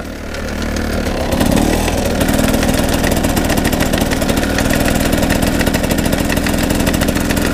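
A GasGas motorcycle engine runs in first gear without revving, a steady close mechanical chatter that thickens after a brief shift early on and continues loud and unbroken, with no voices.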